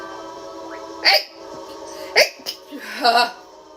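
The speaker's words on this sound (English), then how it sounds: "I'm gonna sneeze." A person sneezes close up several times, sharp bursts in quick succession over a faint steady hum with no talking.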